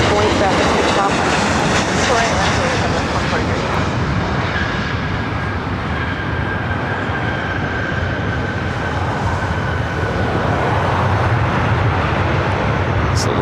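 A jet airliner roars at LAX airport, a loud, sustained engine rumble and whine that holds steady and close throughout.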